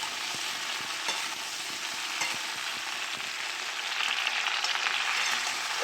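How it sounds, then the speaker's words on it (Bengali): Jujube fruits for pickle are stirred in a pan over medium flame, giving a dense continuous sizzle with soft, regular spatula scrapes and taps close by. "কুলগুলো দিয়ে আমি 5 মিনিট নাড়তে থাকবো।"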